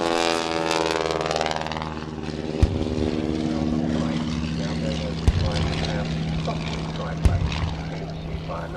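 A replica Sopwith triplane flies past at an airshow, its propeller engine droning loudly with a shifting, Doppler-like pitch, while a voice talks over it.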